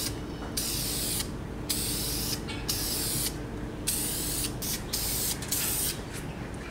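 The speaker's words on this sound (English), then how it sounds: "Spray lacquer." Repeated hissing bursts from an aerosol can of spray lacquer, several sprays of about a second each with short pauses between, close by.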